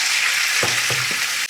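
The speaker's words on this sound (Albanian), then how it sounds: "E hedhi mishin e bardhë në vaj." Raw white chicken meat is dropped into hot oil, setting off a steady loud sizzle with a few short spits and crackles and a brief stirring clatter near the end; no one talks.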